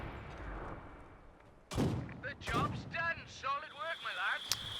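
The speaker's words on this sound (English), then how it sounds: "the mortar pit looks like it's winning the mortar wars" Mortar pits firing in the video game Company of Heroes 2, two emplacements side by side; a couple of heavy booming launches and impacts stand out over a low battle backdrop, followed by shouted voice lines and talk.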